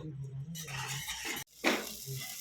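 Ground paste of onion, garlic, spices and tomato frying in a pan, giving a soft sizzle with brief stirring scrapes, short and fairly faint, with a little voice at the start.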